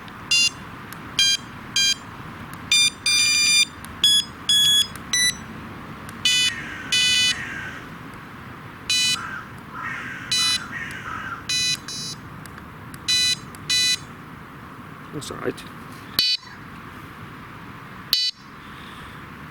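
An electronic carp fishing bite alarm sounds a run of high, piercing beeps in short bursts and single blips, changing pattern as tones and volume settings are cycled, close and loud, with a few quiet words spoken.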